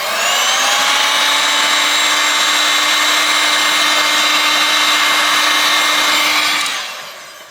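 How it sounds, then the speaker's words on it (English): Heat gun blowing hot air onto a phone screen to loosen it for removal during a Dialn X62 teardown: a loud, steady whining roar held for about seven seconds, then winding down as it shuts off. "I'm gonna heat this up a little bit just to make life easier"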